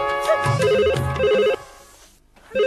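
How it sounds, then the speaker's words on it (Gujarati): A phone ringtone plays in a comedic domestic household scene, a bright melodic electronic chime repeating in two loud bursts before a quiet pause, with another ring starting at the end. "આ ફોન ની રિંગ વાગે"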